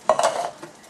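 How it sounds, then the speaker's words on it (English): A spoon stirring chili with drained canned corn in a pot, a brief close scrape and clink of two or three quick strokes, then quiet. "Now we're going to stir all this together"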